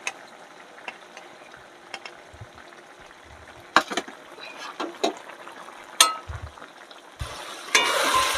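Bitter gourd and potato curry fries in a pan with a steady low sizzle, broken by sharp spoon scrapes and clatters while it is stirred.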